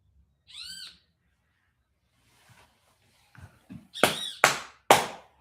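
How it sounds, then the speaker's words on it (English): A great kiskadee gives a thin call, then after a pause a loud, close run of three sharp, piercing cries, each one coming fast after the last. "That bird is so freaking loud."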